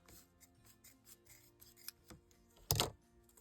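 Scissors snip through fabric scraps for junk journal embellishments in a series of soft, close cuts, followed by one louder crunching cut near the end, all quiet and without talk.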